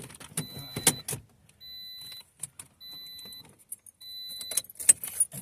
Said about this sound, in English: Turn the car back off.